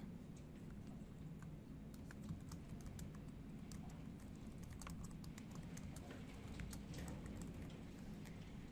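Faint, scattered clicks of typing on a computer keyboard, as when naming an item in data stream designer software, sit over a low steady hum. The keystrokes come in uneven bursts.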